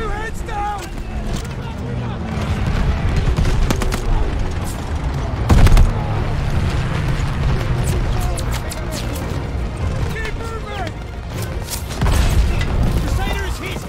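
Dense battle din from a World War II desert tank assault at El Alamein in the game Call of Duty Vanguard: continuous rifle and machine-gun fire with heavy booms and explosions, loud and close. Shouted commands cut through the chaos.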